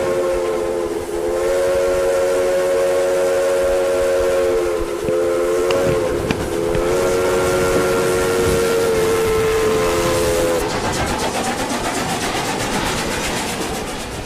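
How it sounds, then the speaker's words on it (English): A steam train comes in on a railroad as its loud, sustained whistle blows in long steady tones, then cuts off into the rumble and hiss of the train, with the crackle of old film sound. "another piece of film footage showing this same train coming in"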